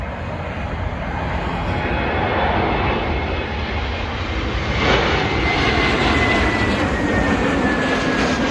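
A passenger jet arriving from Beirut roars steadily on its landing approach at Heathrow Airport, a loud broad engine rumble that swells slightly midway as it passes overhead.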